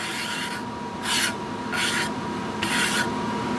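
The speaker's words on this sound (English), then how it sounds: "We'll just scrape it in and then put the excess back into the tub" Powder coating powder scraped back into its tub, heard as four rhythmic raspy scrapes about half a second long each, close and fairly loud over a steady background hum.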